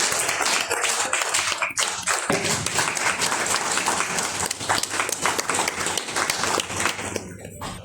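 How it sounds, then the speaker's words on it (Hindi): Sustained, vigorous applause from a seminar audience at an award ceremony, loud and continuous with a few sharper individual claps standing out, easing briefly near the end. "तालियों में कमी नहीं होनी चाहिए, उठा दीजिए।"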